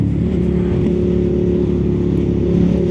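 A Suzuki SV650 motorcycle engine rumbles loudly and steadily with a throbbing idle-like drone and slight rises in revs while downshifting, with no voices.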